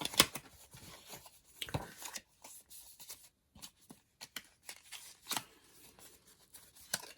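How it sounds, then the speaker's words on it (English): Paper being folded and creased by hand, an envelope with small flaps, giving intermittent crisp rustles and crackles at close range with short pauses between. "Let's just fold this one back up again."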